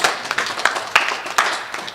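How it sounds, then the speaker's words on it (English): A conference audience claps for a presenter, a thin scattering of hand claps with uneven rhythm, fairly close and moderately loud, with no voices over it. "Okay, a big clap for Osana Mbonde."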